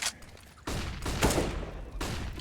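Gunfire during a professional Counter-Strike match on the Inferno map, sharp bursts of shots and rapid rifle fire in quick succession, loud and close, with no talk over it.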